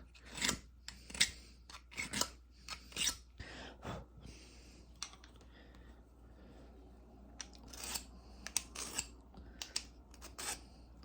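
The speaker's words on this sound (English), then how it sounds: "that's the sound you want to hear of it sharpening" Hair clipper blades being sharpened, a series of rhythmic rasping strokes in bursts, close and fairly clear, with pauses between groups of strokes.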